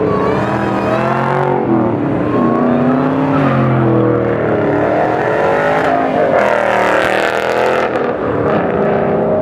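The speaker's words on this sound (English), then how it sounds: "and you hear nothing but the loud exhaust" A Ford Mustang Mach 1 fitted with an SLP Loudmouth 1 catback exhaust revs loudly and close, its deep engine note swelling and dropping through several throttle blips with no talk.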